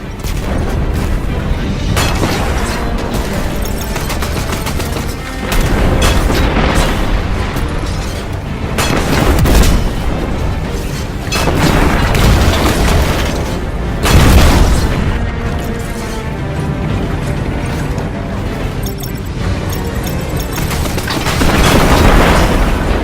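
Red Legion tank cannon fire in the video game Destiny 2, heavy booming blasts and explosions rolling one after another, loud and dense throughout with a continuous rumbling battle bed and no talk.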